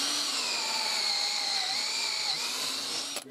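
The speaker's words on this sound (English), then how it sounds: "drill straight through these holes with a 10mm drill bit" A power drill with a 10mm bit bores through holes in a steel beam, a steady high whine held for about three seconds that ends in a brief clatter.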